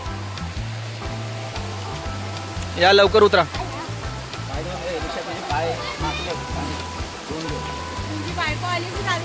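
Steady rushing water of a big, clear river in rural Konkan fills the background while people talk and call out over it, with one brief louder splash or shout partway through.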